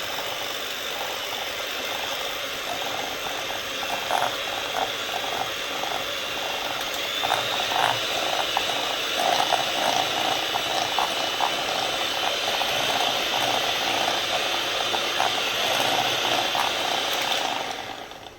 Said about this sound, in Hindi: हमने इसको इतना बीट करना है कि जो मक्खन है ना ये बिल्कुल फ्लफी हो जाए